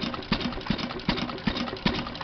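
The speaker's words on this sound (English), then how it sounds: "this is a 1916 International Harvester Mogul, 6 horsepower, throttle governed side shaft engine" A 1916 International Harvester Mogul 6 hp throttle-governed side-shaft engine runs close by, thumping out regular firing beats about every 0.4 seconds over a mechanical clatter, with no voices.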